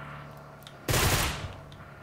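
A short burst of gunfire in the mobile battle royale game PUBG Mobile cracks out loudly partway through, a dense rapid volley fading over half a second against quiet game ambience.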